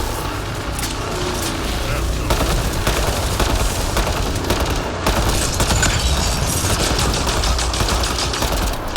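Loud, dense gunfire from the video game Mass Effect Andromeda: rapid automatic bursts and sharp shots run almost continuously, with game voices talking over the shooting.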